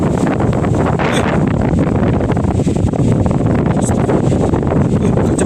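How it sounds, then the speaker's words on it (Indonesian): Strong, gusty wind roars steadily and close against the microphone at a bridge, a dense unbroken rush with no voices. "Jadi posisi angin tuh sangat kencang."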